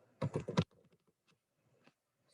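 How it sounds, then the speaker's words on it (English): Short burst of quick computer keyboard keystrokes while entering a payee name into accounting software, a few crisp clicks in under half a second, followed by faint scattered taps and near silence. "We're going to type cashier in the payee field."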